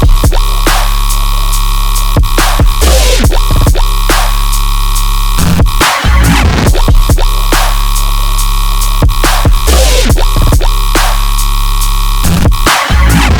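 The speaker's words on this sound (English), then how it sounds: "sustain basses are made with FM synthesis between a low-pitched wavetable and an high-pitched wavetable" A heavy, sustained dubstep bass made by FM synthesis between a low-pitched and a high-pitched wavetable, with a growling, metallic timbre, plays in pulsing phrases, broken by sharp drum hits and brief gaps.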